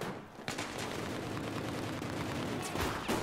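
Gunfire in the video game Battlefield 4, a dense, continuous barrage of shots with sharper cracks near the start and end, loud and without pauses.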